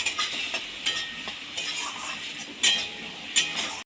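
Spiny gourd and potato cubes sautéed in a pan for a vegetarian curry, bright sizzling with repeated spatula scrapes and light metallic clinks against the pan, close and without talk.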